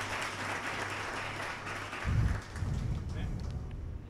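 A church congregation breaks into a round of applause, moderately loud clapping swelling briefly after a preacher's voice and continuing under a steady room murmur.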